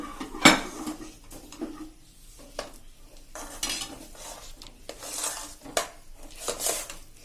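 Sesame chikki mixture being stirred briskly in a pan with the gas flame switched off, a spoon scraping and clinking against the metal in irregular near strokes, one sharp knock early on, no voices.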